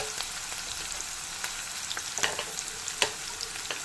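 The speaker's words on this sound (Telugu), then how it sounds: "అల్లం పెరుగు, వెల్లుల్లిపాయలు ఇవి మొత్తం వేసి ఒక 5 సెకండ్స్ వేయించాలండి." Ginger, curd and garlic fry in a hot pan with a steady close sizzle, broken by scattered sharp pops and spatters, and no one talks.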